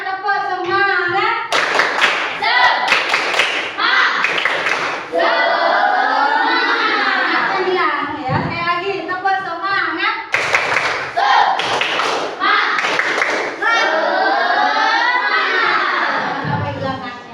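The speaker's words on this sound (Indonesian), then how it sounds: "coba tepuk semangat, tepuk semangat" A class of children performs rhythmic spirit clapping in the classroom, bursts of loud, sharp patterned claps alternating with group chanting voices, near and energetic.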